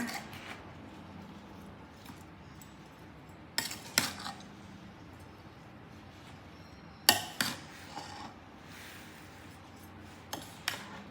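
A spoon scraping and clinking against a container while mango pickle is stirred, with scattered sharp metallic clinks over a quiet background and no talk.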